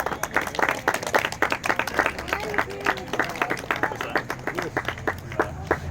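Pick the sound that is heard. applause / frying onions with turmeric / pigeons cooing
applause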